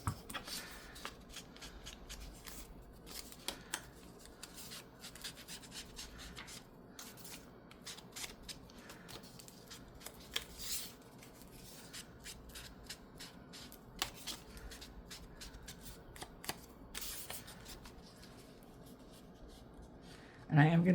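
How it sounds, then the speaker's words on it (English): A paper strip for a handmade Christmas gatefold card is inked up close, with repeated soft dabbing, rubbing and scraping strokes in an uneven rhythm and a louder thump at the very end. "I'm going to ink that up."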